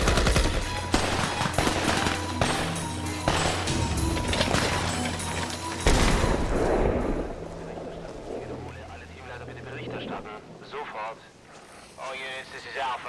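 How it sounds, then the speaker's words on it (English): Rapid bursts of automatic gunfire in a police shootout in Germany crackle loudly and continuously, then fade as voices and other noise take over toward the end. "German police return gunfire."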